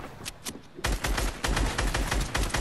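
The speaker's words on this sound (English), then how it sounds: "he's just shooting me right now" Rapid bursts of video-game gunfire from an enemy player, loud and close, cracking in quick repeated volleys after a brief quieter lead-in.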